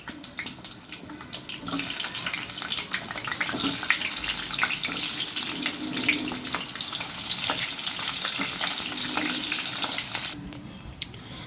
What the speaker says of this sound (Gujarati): તેલ ગરમ થઈ ગયું છે હું એમાં પહેલાં ડુંગળીને ચેકી લઈ